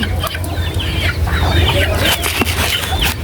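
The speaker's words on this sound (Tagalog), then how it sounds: "na akong mga manok diri o" Chickens clucking steadily at a rural provincial home, several birds close by with overlapping clucks and soft calls over a constant low hum, no talk.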